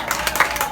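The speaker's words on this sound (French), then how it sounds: "Est-ce qu'on peut applaudir pour le marié?" Wedding guests applaud the groom in a short, dense burst of clapping from a crowd, steady and fairly loud for under a second.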